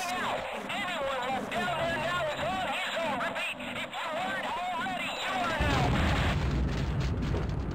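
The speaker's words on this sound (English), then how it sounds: "The military is just bombing the fuck out of this place" Military bombing blasts rumble through a Half-Life Sven Co-op battle, heavy booming explosions running steadily under constant talk and chatter, growing denser and louder toward the end.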